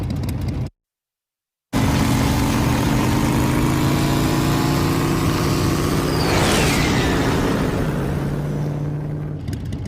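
Motorcycle engine running in an anime scene, a loud, steady droning hum with a brief silent break near the start and a quick rising whine partway through, heard alone without speech.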